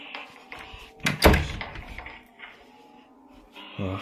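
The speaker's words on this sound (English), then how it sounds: "I'm gonna shut the door" A door slams shut in a Luigi-themed five-nights horror fan game set in a monster-filled house, one loud thud near the middle followed by scattered lower game noises and a brief later knock.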